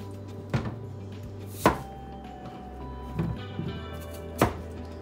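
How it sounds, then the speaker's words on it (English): A knife chops through raw yam on a board for porridge in an African village kitchen, four sharp separate strikes spaced unevenly over a low steady hum, close and clear. "I'm gonna cut it for porridge yam"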